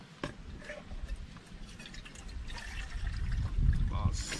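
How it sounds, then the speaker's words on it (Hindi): Water pours and splashes out of a foldable water can at a riverside campsite in India, an irregular trickling and splattering that grows heavier toward the end, close by, with a person talking intermittently. "थोड़ा पानी उकर के फेंक देते हैं"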